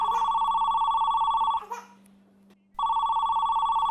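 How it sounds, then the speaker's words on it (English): A telephone rings with a loud, steady electronic trill, stops for about a second, then starts ringing again in an animated children's show. "Isn't anyone going to get the phone?"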